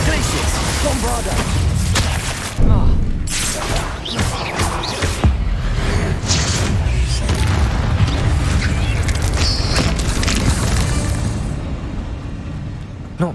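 Spell blasts and explosions in the Hogwarts Legacy video game, including Confringo, Glacius and Bombarda, during a fight with a giant spider: dense, loud, continuous booming impacts and crashes with a sharp burst near the start, mixed with voices.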